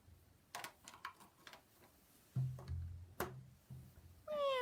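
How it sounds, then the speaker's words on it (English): A cat meows a few times amid soft background noise and faint clicks, the calls short and moderately close, ending with a higher drawn-out cry. "Cat."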